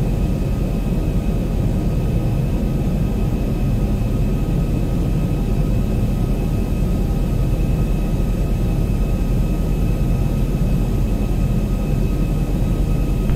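Boeing 737 jet engines in the Zibo B738 flight simulator give a steady, loud broadband roar with a low rumble and a faint constant whine, unbroken throughout.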